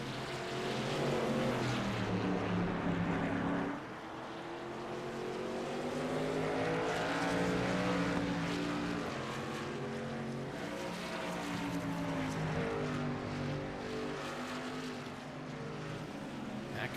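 Race trucks on the Indy road course in a Black Horizon Truck Series race, several engines droning and rising in pitch together as they brake and accelerate, steady and loud, with faint commentary beneath.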